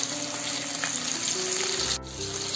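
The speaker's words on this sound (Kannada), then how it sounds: "ಈಗ ಮಸಾಲೆ ಸಾಮಾನು ಫ್ರೈ ಆಗಿವೆ ಈಗ ಇದಕ್ಕೆ ಈರುಳ್ಳಿ ಪೇಸ್ಟನ್ನು ಹಾಕೋಣ" Onion paste and spices fry in hot oil with a continuous close sizzle, then the hiss briefly drops and shifts about two seconds in, and no voice is heard.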